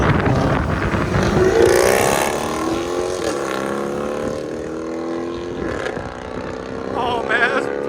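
A 2015 Jeep Grand Cherokee Summit with a 5.7L HEMI V8, X-pipe and straight pipes, pulls hard on an open road, its exhaust note climbing steadily in pitch with a brief shift around the middle, loud and close throughout.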